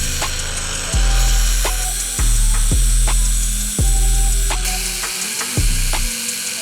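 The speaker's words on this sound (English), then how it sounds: "What I'll do now is just grind down the rest of it, I think." Power tool grinding down a metal mirror sleeve on a BMW S1000RR motorcycle, heard as loud close whirring bursts that stop and restart several times, each spin-up rising sharply in pitch.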